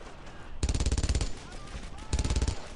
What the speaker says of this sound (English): They keep getting a hold of MG42s.